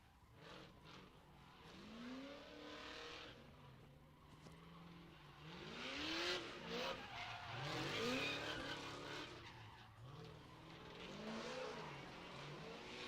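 A drift car tears through a neighborhood with repeated rising and falling engine revs, a throaty, rasping note that swells loud near the middle, with tire noise and skidding hiss between throttle blips.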